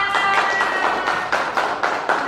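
Classroom applause after a student group presentation, a short burst of dense clapping from a small group, fairly loud and steady with a few sharper individual claps throughout.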